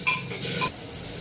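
Meat and vegetables sizzle in a pan while being stirred, with two short scraping strokes over a soft steady hiss, heard close and without speech.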